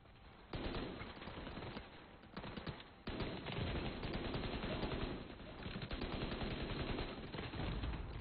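Rapid automatic gunfire from The Division 2 video game, loud bursts of machine-gun fire with short pauses between volleys, continuing almost without letup.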